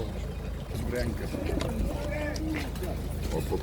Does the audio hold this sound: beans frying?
no